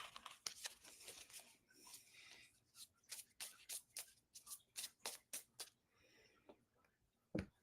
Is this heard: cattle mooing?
no